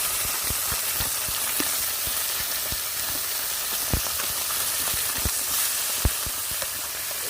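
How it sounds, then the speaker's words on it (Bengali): Small river fish, rubbed with salt and turmeric, fry in hot oil in a wok, giving a steady, close, loud sizzle scattered with sharp crackling pops throughout, with no talking. "কড়াইতে তেল দিয়ে দিয়েছি তেল গরম হয়ে গেছে এদিকে মাছও দিয়ে দিয়েছি"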